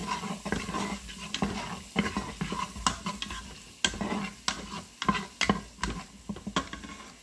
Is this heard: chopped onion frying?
yes